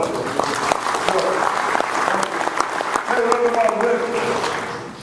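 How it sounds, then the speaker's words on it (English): A high school football coaches' gathering gives Rick Court a warm round of applause, steady clapping from a large crowd that runs under a speaking voice and tapers slightly at the end. "Let's give a little round of applause."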